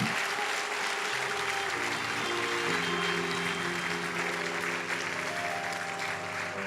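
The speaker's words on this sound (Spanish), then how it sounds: "Denle un aplauso fuerte al Señor, que Él vive." A church congregation applauds loudly and continuously, a broad roar of clapping over sustained organ or keyboard chords that shift in pitch beneath it.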